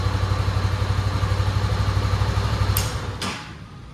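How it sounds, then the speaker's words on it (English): A Honda CB300F motorcycle engine idles with a steady, close, throbbing rumble, then is switched off; the rumble dies away after a couple of sharp clicks, leaving near quiet. "let me switch off the bike"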